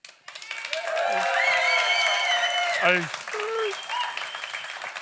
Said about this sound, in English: I want to hear some cheers or some clapping or something to make a bit of noise for our whānau